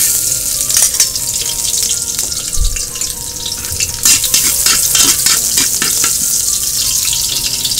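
Garlic fries in cooking oil in a pan at an outdoor cookout while being stirred, a close bright sizzle broken by scraping utensil strokes and bursts of crackling.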